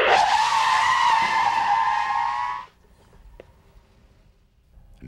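Police car braking hard at 50 mph without ABS, its locked tires letting out a loud, sustained screech for nearly three seconds before cutting off abruptly into quiet.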